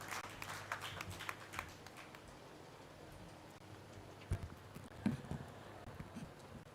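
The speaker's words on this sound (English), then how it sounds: "Let us give a clap to that and let us celebrate the strength of our country." Scattered, thin applause from an audience at a national martial arts championship inaugural ceremony in 2022, fairly distant and soft, with a few louder claps and knocks near the end.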